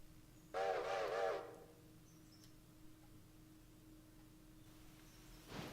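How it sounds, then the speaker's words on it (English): A train whistle sounds in the Railroader video game, one wavering tonal blast of about a second over a quiet low rumble, followed later by a short noisy burst. "pretty sure I heard your train."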